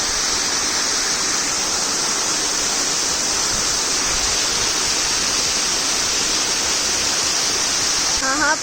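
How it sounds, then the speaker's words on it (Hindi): A mountain waterfall in Himachal pours straight onto a road, a loud, steady rushing roar of falling water that fills the whole stretch without a break. "और ये रही वाटरफॉल जो सीधा रोड पे गिर रही है।"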